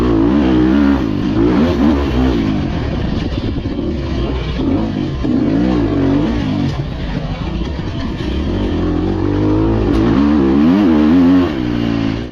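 An enduro dirt bike engine held on the throttle during a trail ride, a loud, close, continuous buzzing roar with rising and falling pitch and some rattling clatter, with no talking.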